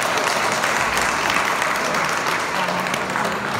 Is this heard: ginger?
no